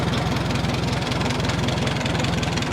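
A rebuilt 1938 Minneapolis Moline Z tractor engine idles close by with a steady, lumpy low thumping rhythm and a mechanical rattle, loud and alone.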